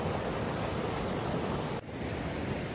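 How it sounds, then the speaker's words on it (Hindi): Floodwater rushes loudly after heavy rain, a dense, continuous roar of fast-flowing water close to the microphone, with a brief dip partway through and no voices. "यहाँ पे देखो गाइज किस तरह से पानी बह रहा है, काफी डरावना सा लग रहा है, जैसे बाढ़ आती है।"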